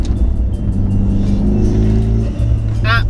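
Renault Clio R27 197 fitted with a Megane turbo engine, driven hard through a corner in second gear on B14 coilovers; a loud, steady engine drone fills the cabin, with someone talking over it.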